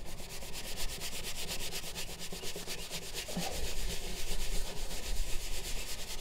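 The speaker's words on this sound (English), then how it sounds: "Give it a good rubbing." Steady scrubbing rubs across the surface of a caravan battery locker about 14 years old that has been coated with a pink cleaning paste, a continuous close abrasive hiss that runs without a break and without talk.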